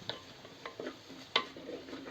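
A utensil stirs in a hot pan on a village kitchen fire, making soft scrapes and light clinks at an uneven rhythm under faint background hiss, close and fairly quiet.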